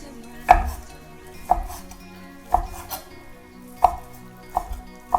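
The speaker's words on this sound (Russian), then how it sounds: "я нарежу мясо" A knife chops cooled cooked meat into small pieces for red borscht, with about six or seven sharp, close thuds at uneven intervals in a quiet kitchen.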